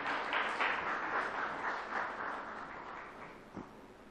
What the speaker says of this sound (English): So once again, can we have a round of applause for Mr.